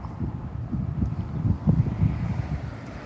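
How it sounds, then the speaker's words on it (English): Wind gusting outdoors on a humid day, buffeting the microphone with a low, rumbling, fluctuating roar that rises and falls, close and fairly loud throughout. "that wind feels great"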